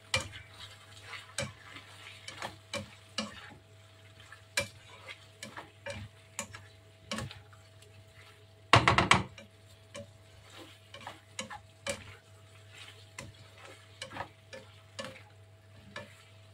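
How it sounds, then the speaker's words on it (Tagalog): Potatoes are stirred in a cooking pan, a spoon scraping and clinking in scattered strokes over a soft, steady sizzle, with one louder clatter midway. "Halo natin ng konti."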